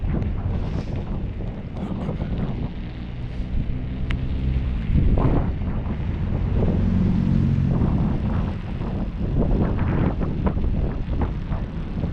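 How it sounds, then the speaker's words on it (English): Steady wind noise buffets the microphone during a night BMX ride outdoors, a loud, continuous rumble with gusty swells and no talk over it. "It's even a little bit windy out. You know, the wind is okay."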